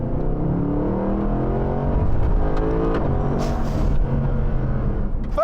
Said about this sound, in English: There are no turbos deadening the noise from the exhaust.